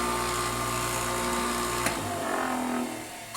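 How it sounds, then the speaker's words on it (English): SSM2 swing-iron skate sharpener grinding a pair of Soft Tech size 1 recreational rental ice skates, a loud steady high-pitched whine with a sharp tick near the middle, then easing off as the blade pass ends. "Use the SSM2 swing iron machine,"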